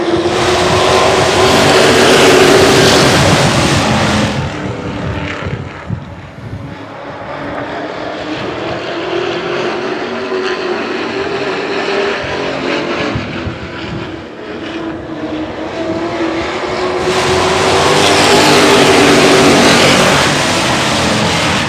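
Race cars roaring around an oval track, loud sustained engine drone swelling as the pack passes close at the start and again near the end, quieter in between as the cars move away.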